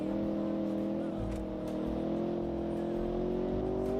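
An LS V8-swapped BMW engine in BeamNG drones at a steady, slowly rising pitch, a sustained mid-distance hum that climbs gradually while faint talk sits underneath.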